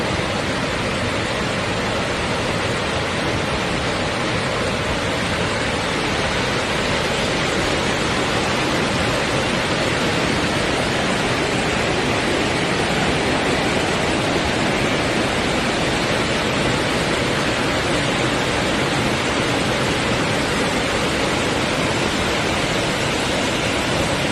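Fifth tier of Jet Sao Noi waterfall: loud, steady broadband rush of falling water filling the whole clip, unbroken and close, with no voices.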